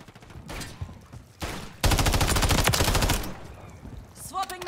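Rapid automatic gunfire in the shooter game Modern Warfare 3 bursts out in loud, dense rattling volleys, with shorter bursts before and after and a faint voice briefly audible.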